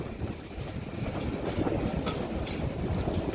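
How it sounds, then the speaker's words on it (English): Steam locomotive 7828 Odney Manor on the West Somerset Railway pulls into Blue Anchor station, a steady rolling rumble with wheel clatter and faint rail clicks, continuous and fairly close throughout. "7828 Olney Manor on the West Somerset Railway, arriving at Blue Anchor"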